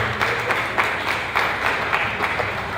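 A crowd claps steadily in a broad, continuous wash of applause, moderately loud with gentle swells and no voices.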